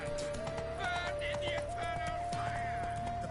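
Roach the horse gallops in The Witcher 3, hooves clip-clopping steadily under game music and a brief whinny, with voices talking over the top.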